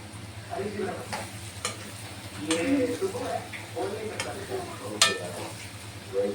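Egg bhurji is stirred in a hot pan over a steady sizzle, with a few sharp spatula scrapes and a voice speaking briefly in the background.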